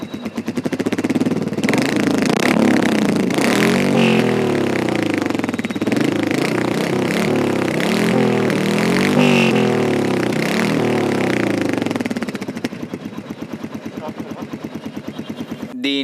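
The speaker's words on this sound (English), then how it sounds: "The exhaust sound is noticeable, unlike the other BS6 Royal Enfield Classic 350." Royal Enfield Meteor 350 motorcycle with a chrome-finished exhaust, a loud, steady thumping single-cylinder idle and burble that continues close to the microphone before dropping to a lighter, quieter tick near the end.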